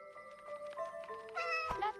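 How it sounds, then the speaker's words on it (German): Kitten meowing up a tree in a video game, a few thin, high, drawn-out mews over soft background music, fairly faint. "Kätzchen"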